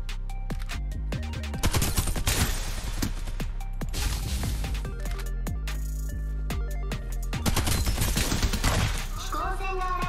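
Dense, continuous gunfire from the Farlight 84 battle royale shooter, with rapid bursts and sharp impacts layered over game music and effects, loud and sustained throughout.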